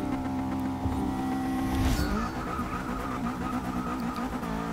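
A 1968 Abarth 595 in Forza 6 accelerating hard, its small engine buzzing loud and close, with a rising whine that drops at a gear change near the two-second mark, then climbs again.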